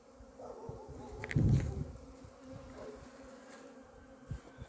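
Honey bees flying around their hive on a cleansing flight in the Dnipropetrovsk region, a continuous buzzing hum with one bee passing close and loud for a moment, otherwise steady and moderately near, with no voices.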